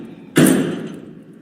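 A single heavy strike of an 8-pound sledgehammer on a metal weld rings out, a loud sharp clang that fades slowly, with no talking.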